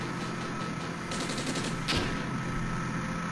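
Tank gunfire in the wargame Armored Brigade, a loud continuous battle soundscape with a sharp cannon report near the middle over a rumbling din of distant shots.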